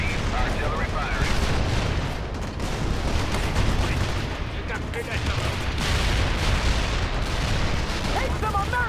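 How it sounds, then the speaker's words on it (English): Sustained heavy artillery barrage in the World in Conflict video game, loud dense booms and rumbling blasts running continuously with voices talking over the fire. "Coordinates received. Artillery firing."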